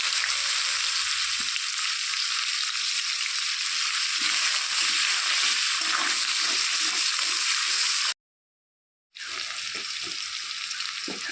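Bay leaf, nigella seeds and chopped onion fry in the oil left from frying eggs, a loud, continuous close-up hiss and crackle that cuts out briefly before resuming.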